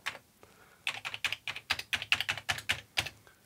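Rapid Amiga 500 keyboard keys being pressed one after another, crisp clicks in a steady, quick rhythm, close up with no talking.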